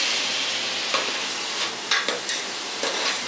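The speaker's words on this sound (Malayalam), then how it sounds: "ഉള്ളി അതിലേക്ക് ഇട്ട് കൊടുക്കാം. ഇത് നമ്മൾ ചെറുതായിട്ട് അരിഞ്ഞെടുക്കുന്നുണ്ട്, പെട്ടെന്ന് വഴന്ന് കിട്ടും സംഭവം." Finely chopped onion sizzles and fries in a pan with tomatoes for a Kerala-style Bengal gram curry, a steady hiss broken by a few light stirring scrapes, with no talking.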